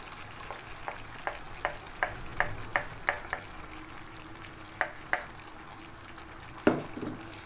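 Chicken frying in a little oil as ground spice paste goes in, a soft sizzle punctuated by a run of regular spatula taps against the pan and a louder knock near the end.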